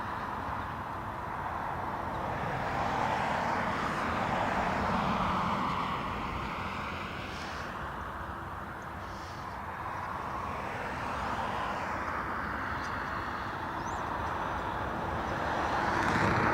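A Lufthansa Airbus A321 at Dublin Airport gives off a steady, fairly faint jet rumble with slowly shifting whine, lasting throughout and swelling gently toward the end, with no voices.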